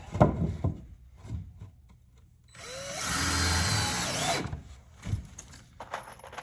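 A drill drives screws into wooden cross pieces while jacking up an old barn to replace its rotten sills, a close whining burst of about two seconds between quiet knocks and handling sounds.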